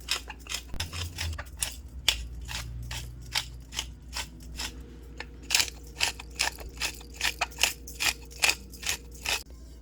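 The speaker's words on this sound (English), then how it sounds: "I'm gonna start by hand grinding like a tablespoon of black pepper" About a tablespoon of black pepper is ground in a hand grinder. It makes a series of close, crisp crunching clicks in short repeated bursts, speeding into a quick regular rhythm toward the end.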